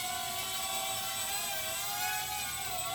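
Fayee FY530 quadcopter drone hovering steadily indoors, a continuous high-pitched whirring buzz of small motors, fairly faint and even with slight pitch wavering.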